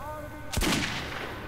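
One sharp, loud revolver shot in Metro 2033 cracks out and fades into a reverberant tail, after a steady tonal background hum.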